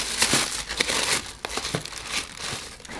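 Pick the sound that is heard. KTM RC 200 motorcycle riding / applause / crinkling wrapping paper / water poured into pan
crinkling wrapping paper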